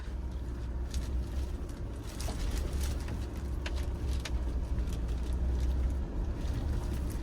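A Mahindra Thar's engine runs at a steady idle, a continuous low rumble that fills the whole stretch with little change, with faint birds and background noise and no talk.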